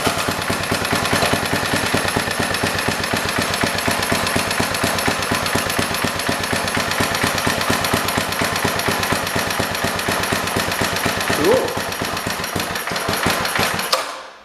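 An old junk tiller engine fires up and runs, a loud, fast, close putter of rapid even combustion pulses that holds steady for about fourteen seconds before cutting off.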